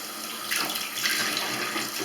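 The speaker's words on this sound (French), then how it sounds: "vous videz votre eau, hein, savonneuse. et vous continuez à rincer correctement vos masques." Running water from a sink tap as cloth face masks are rinsed after emptying soapy water, a steady broadband splash that swells slightly partway through, with no voices.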